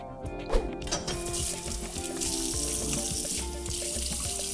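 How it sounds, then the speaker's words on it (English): Steady rush of water from a kitchen tap, with brief clinks and splashes as hands are washed under the stream. "I'm gonna go wash my hands"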